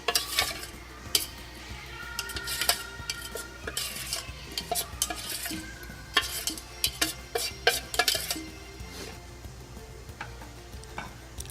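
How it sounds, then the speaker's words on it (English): A utensil stirs quail eggs into masala in a pan, with irregular scraping and sharp metallic clinks against the pan over a low sizzle, continuing for several seconds without talk. "Now add eggs in this masala and mix it all together."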